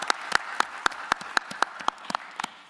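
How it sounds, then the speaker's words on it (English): A small group at a county board of commissioners meeting gives a round of applause, sparse, distinct claps at a steady rhythm over a quiet room. "Let's give Wilson Academy another round of applause this morning."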